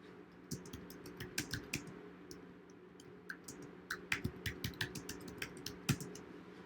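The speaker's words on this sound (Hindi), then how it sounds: "इसको यहाँ पे एंटर करके मैं कंट्रोल वी करता हूँ" Someone types on a computer keyboard, pressing Enter and Ctrl+V, giving soft, irregular clicks and taps that come faint and nearby in quick clusters.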